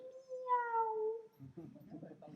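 A voice imitates a cat's meow with one drawn-out, falling mew, then a few murmured syllables follow, quiet and close.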